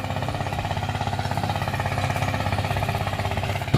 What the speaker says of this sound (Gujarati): નાનું ટ્રેક્ટરમાં ખેતરમાં ચાલે છે તે જોઈ લો